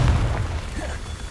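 The Confringo fire spell detonates in Hogwarts Legacy as a short, loud low boom that fades quickly, with no voices over it.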